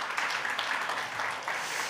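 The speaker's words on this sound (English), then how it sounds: "give them a round of applause." Church congregation applause, a faint, even patter of many hands clapping in a large room, continuous and without talk.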